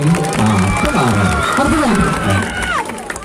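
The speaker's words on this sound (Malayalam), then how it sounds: "ഒരു കയ്യടി" Audience at a school anniversary event claps and cheers, a loud dense burst of applause and crowd noise that fades near the end.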